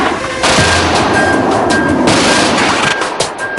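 Loud, dense roar of a MiG-29's 30 mm cannon firing, a continuous burst with sharp onset that holds steady for several seconds before tapering.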